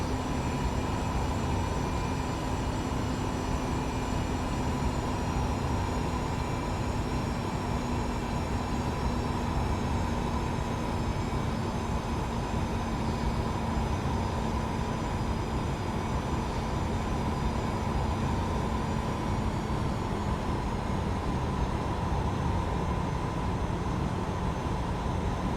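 Jet engines of a JarDesign A320 in the X-Plane 10 flight simulator hold a steady, unbroken drone with a high whine layered on top, and the pitch of that whine sinks slightly over time.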